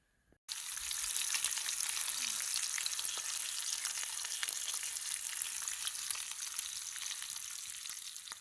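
Bacon and eggs frying in a hot cast iron pan, a steady bright hiss and crackle that starts abruptly and keeps going evenly, close and alone without talk.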